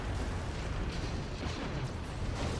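Battleship artillery from C&C Generals Zero Hour fires as a dense, continuous rumble of booming explosions, loud and sustained throughout with no gaps.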